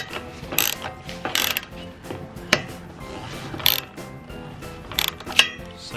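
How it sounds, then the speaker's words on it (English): Hand ratchet tightening bolts on a Prinsu roof rack mounted on a 2017 Toyota Tacoma TRD Pro, heard as several short bursts of quick clicking separated by pauses, fairly close and with no talk. "When you guys are tightening these down on the rack, make sure you guys don't over tighten them."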